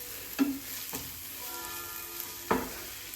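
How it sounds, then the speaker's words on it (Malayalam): Masala with chilli, turmeric, coriander and pepper powders sautés in a pan for a red snapper dish, a steady low sizzle broken by three sharp clanks of a spoon against the pan. "ഇതൊക്കെ ഒന്ന് ആഡ് ചെയ്തിട്ട് നന്നായിട്ടൊന്ന് വഴറ്റിയെടുക്കുക"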